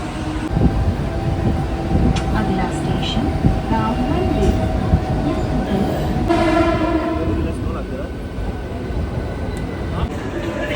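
Local commuter train noise on a busy Mumbai station platform, with a steady rumble, a horn-like tone partway through, and a crowd talking throughout.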